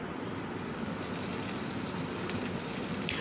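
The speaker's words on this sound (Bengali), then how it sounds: "আলু আর কুমড়োটাকে একটু ভেজে নিলাম।" Potato and pumpkin fry in hot oil with a dense, steady crackling sizzle, close and even throughout, with no voices.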